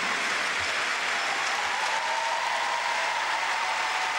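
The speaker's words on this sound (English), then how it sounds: "Quite a few standing to applaud" Steady applause from a snooker match crowd, some spectators standing, a dense even wash of clapping sustained throughout at moderate level.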